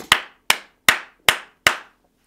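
At a church service, five sharp, evenly spaced hand claps ring out one after another at a steady beat, each crisp and quickly decaying, with silence after the last.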